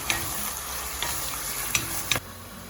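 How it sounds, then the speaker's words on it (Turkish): Ground meat for içli köfte filling sizzles steadily in a hot pan in a home kitchen, with a few sharp scrapes and clicks from stirring; no one speaks. "Kıymamız kavrulmaya devam ediyor."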